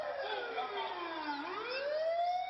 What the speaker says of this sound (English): So this is the siren.